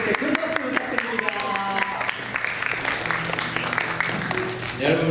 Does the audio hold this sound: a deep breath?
no